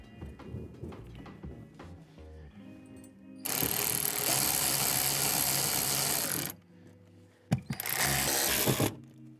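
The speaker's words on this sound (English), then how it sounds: "Go, fuel pump, go." Electric fuel pump on a 2000 BMW 740i Sport E38 whirring steadily for about three seconds, then cutting off, followed by a second shorter burst of the same buzzing hum; some faint clicks and handling noise precede it.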